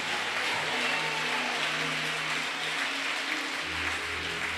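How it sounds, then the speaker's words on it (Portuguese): Congregation clapping in a church service, a continuous diffuse wash of many hands heard at moderate loudness, mixed with low sustained organ or keyboard tones underneath. "Desocupem as mãos, batam palmas e glorifiquem a Jesus."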